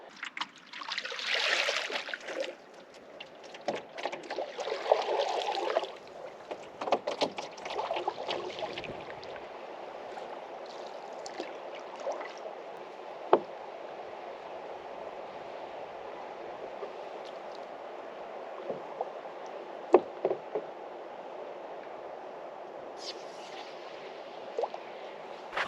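A canoe paddled through a marsh in late fall, with soft trickles and dribbles of water from each stroke and occasional knocks against the hull, louder early on and then settling into a quieter steady glide.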